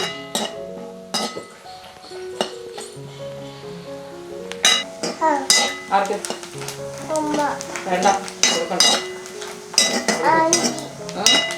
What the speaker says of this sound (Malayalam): നമുക്ക് ആദ്യം തേങ്ങ ഒന്ന് നന്നായിട്ട് വറുത്തെടുക്കാവേ.